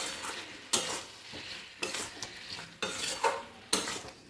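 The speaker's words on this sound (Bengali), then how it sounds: "ভালো করে একসঙ্গে সব মিক্স করে নেব।" A spatula scrapes and stirs masala with pointed gourd in a frying pan over a steady sizzle, with four strong scraping strokes spaced about a second apart, close and alone without talk.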